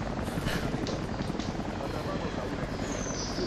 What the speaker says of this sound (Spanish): último helicóptero saliendo